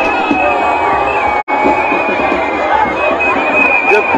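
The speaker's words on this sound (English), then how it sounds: "Huge gathering of citizens." A huge crowd of citizens cheers and shouts at a George Weah rally in Busse Quarter, Monrovia, a dense roar of voices and whistles filling the space continuously, with one brief dropout.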